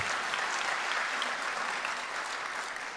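An awards show audience applauds steadily, a dense wash of many hands clapping, filling the whole stretch without speech.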